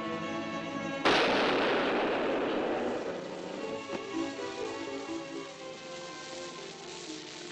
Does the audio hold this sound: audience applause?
no